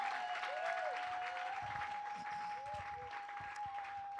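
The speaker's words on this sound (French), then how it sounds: "Let's give him a big hand." Conference audience applause at a church gathering in Cameroon, faint and distant, a soft continuous patter of clapping under a steady tonal hum.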